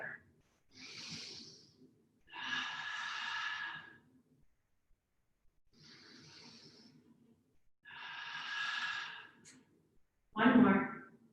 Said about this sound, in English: 3 big breaths right here.